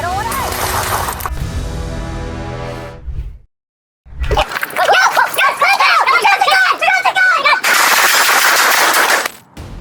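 Rapid bursts of police gunfire in a night-time gunfight during a traffic stop in Baltimore, Maryland, with loud cracks and shouted voices over engine noise, then a brief silence before a dense, chaotic stretch of shots and yelling.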